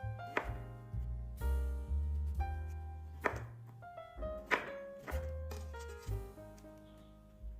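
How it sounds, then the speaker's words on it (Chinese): A knife cuts beef brisket into three-centimetre cubes, with solid thunks against the board at an irregular pace, close up, over gentle background music. "把牛腩切成3厘米见方的小块。"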